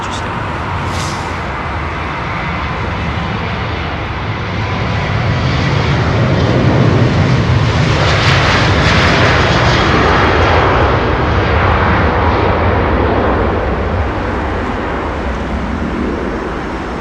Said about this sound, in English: Another Trent powered 777 coming out. Might hear this one humming away as it passes our position here.